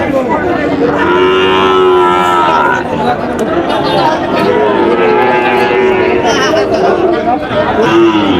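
Several Sahiwal bull calves, around five to six months old, mooing repeatedly at close range on a farm, long drawn-out calls overlapping one another amid people chatting nearby.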